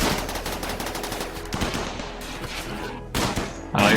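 Defensive turrets in RimWorld open fire in rapid automatic bursts, a dense rattling stream of shots that breaks off briefly and resumes, loud and close throughout.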